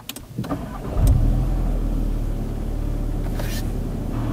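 Inside a VW Polo GTI, the engine cranks briefly and catches, then settles into a steady low idle rumble.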